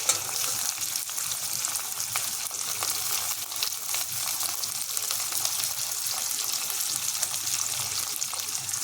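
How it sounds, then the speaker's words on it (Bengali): Chopped ginger, garlic, onion and green chilli fry in oil in a pan, producing a continuous, dense crackling sizzle that stays loud and close from start to finish. "আর দিয়ে দিব কাঁচা লঙ্কা। এগুলো একটু আমি হালকা ভেজে নেব।"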